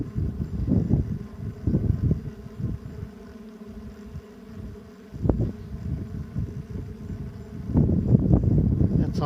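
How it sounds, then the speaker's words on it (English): Strong gusty wind whips past a roadside microphone, a loud, rough rumbling buffet that swells and drops in waves, with a brief lull in the middle and a harder gust near the end. "This is how high the wind is whipping right now."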